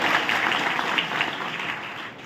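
Audience at a political rally in Varangaon, Maharashtra, clapping loudly and steadily in a sustained, dense burst that holds at an even level throughout.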